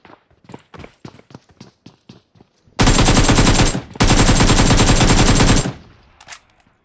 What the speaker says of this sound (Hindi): साला मशीन गन लेके बैठा था।